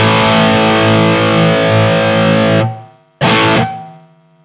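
An electric guitar through an Amptweaker TightDrive Pro overdrive with its gate switch engaged rings out loud and distorted, then is abruptly choked to silence; a second short burst follows and is cut off the same way.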